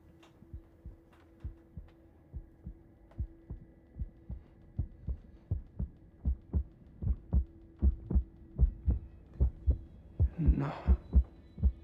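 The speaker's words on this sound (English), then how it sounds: "If you listen carefully, can you hear my heartbeat?" Steady, close heartbeat thumps in a quiet room, starting faint and growing louder and slightly faster over about twenty beats, with a low hum underneath and a brief rustle near the end.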